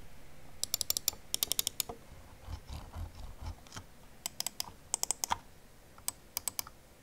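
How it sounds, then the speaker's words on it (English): A run of sharp plastic clicks in quick bursts and small clusters, Logitech G403 mouse buttons pressed repeatedly, close to the mic, with brief pauses between groups. "here's a quick sound test of what the clicks sound like"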